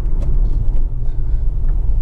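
A 2008 Honda Accord 2.4 i-VTEC EX Tourer travels a quiet country road, giving a loud, steady low rumble of engine and road noise from inside the cabin, with no voices.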